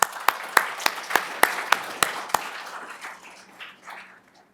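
Short burst of applause from a conference audience at a biology panel discussion: about eight distinct loud claps in quick, even rhythm, then a softer scattered patter fading out within a few seconds.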